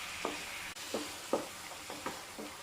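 A spoon scrapes and stirs mushroom masala in a pan in several short, rhythmic strokes. Faint sizzling continues underneath, close up, with no voices.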